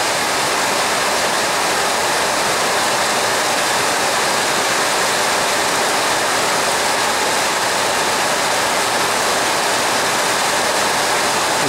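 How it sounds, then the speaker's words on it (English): Steady, loud rush of water falling from a leaking carport roof, a continuous hiss with no pauses and no voices. "See it just drip, drip, dripping from there."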